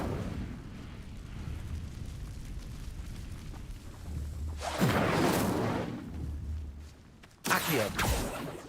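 The Incendio fire spell in the Hogwarts Legacy video game bursts out as a whooshing, roaring blast of flame, with two loud surges rising over a low ambient rumble.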